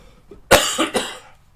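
A single close, harsh cough with a couple of quick follow-up bursts, loud against a quiet room.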